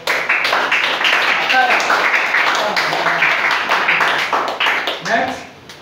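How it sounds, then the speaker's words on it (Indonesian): Audience clapping in a classroom-style academic supervision coaching session, brisk overlapping claps lasting several seconds with voices mixed in, fading toward the end. "Tepuk tangan dulu untuk"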